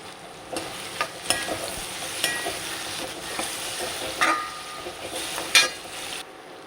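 Sliced onions with crushed black pepper frying in a pan for pepper chicken roast, a soft steady sizzle broken by scattered light scrapes of the stirring spoon, close with no talk.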